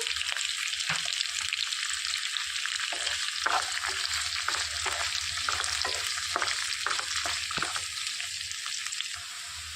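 Thinly sliced onion sizzling in a pan for a snake gourd curry: a steady, close hiss of frying with scattered small scrapes and pops, continuous throughout and with no voices.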